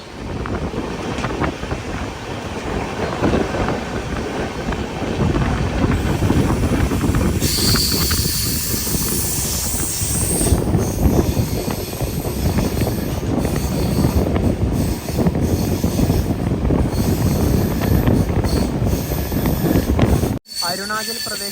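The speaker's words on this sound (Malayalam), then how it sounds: "അരുണാചൽ പ്രദേശിലെ നഹർലഗുണിൽ നിന്നും 545 കിലോമീറ്റർ യാത്ര ചെയ്ത ട്രെയിൻ ഇത് അസാമിലെ ദിഫു റെയിൽവേ സ്റ്റേഷനിലേക്ക് എത്തിക്കൊണ്ടിരിക്കുകയാണ്." The Donyi Polo Express pulls into Diphu station in Assam on a single-track forest line, its heavy continuous rumble mixed with wind buffeting for about twenty seconds before a sharp thump near the end.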